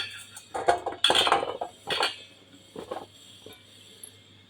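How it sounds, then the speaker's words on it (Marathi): Chopped vegetables, including cut brinjal pieces, dropped into a metal container, giving a few close clattering clinks and knocks in short bursts, with quieter taps toward the end. "हे एका डब्यात मी घालत आहे सगळ्या भाज्या"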